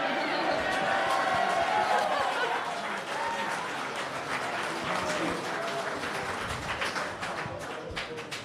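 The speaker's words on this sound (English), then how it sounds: "Before we give a huge round of applause" A debate audience breaks into sustained applause, dense clapping that starts loud and thins into scattered claps as it fades, with some voices mixed in.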